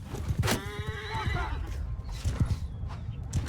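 Horses whinny loudly in a Mount & Blade II: Bannerlord battle, one shrill neigh rising over hoof clatter and the general din of combat, with a voice talking faintly underneath.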